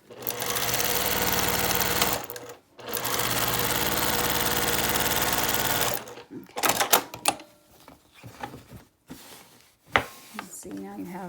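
A sewing machine stitches a quilt block in two long, steady whirring runs, then gives way to short stop-start bursts and fabric handling while a person talks nearby.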